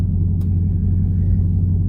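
A 717 hp Dodge Charger Hellcat Widebody rumbles steadily at low speed, a deep, continuous engine drone heard close and loud from inside the car.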